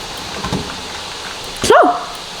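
A dog in a video game gives a single short bark in the middle of the clip, clear over a steady background hum, with a fainter bark-like sound shortly before it.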